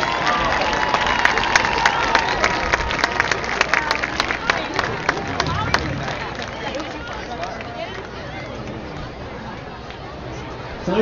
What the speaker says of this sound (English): Let's have a round of applause for all of our 2018 representatives.